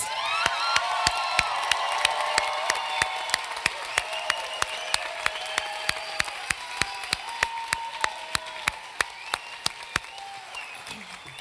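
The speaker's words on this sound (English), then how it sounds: "Let's give these graduates another round of applause." A crowd at a Washington High School mid-year graduation applauds steadily, with sharp individual claps standing out close by, a few whoops and cheers, and background chatter from the gathering.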